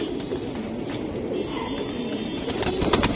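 Giribaz pigeons coo nearby in low, throaty rolling calls that repeat through the clip, mixed with faint rustling and a soft background hum.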